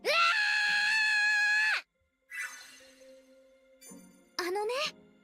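A character in the video game Atelier Resleriana lets out a loud, sustained high-pitched screech, followed after a pause by softer voiced sounds and a second short, rising shriek.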